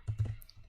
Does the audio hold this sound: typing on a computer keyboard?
yes